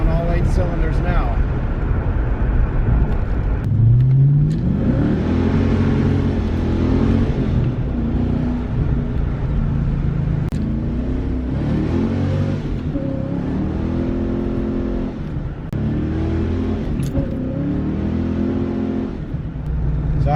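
The V8 engine of a 5.0L Fox Body Mustang Cobra, with a misfire and hesitation, rumbles loudly and steadily, rising into several revs and falling back again over a constant idle drone.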